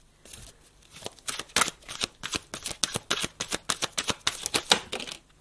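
Playing cards shuffled by hand at close range, a quiet opening rustle, then a quick run of crisp riffling flicks and taps about every quarter second, alone without voices.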